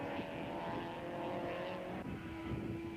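Super Touring cars racing at Killarney in the 1995 South African championship, a BMW slipping past on the inside; steady, loud engine drone with tonal whine, continuous throughout, no talking.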